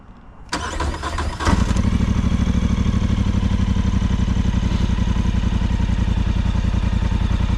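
A Polaris Sportsman 850 ATV engine cranks briefly, catches with a loud burst, then settles into a steady, close, throbbing idle that runs to the end.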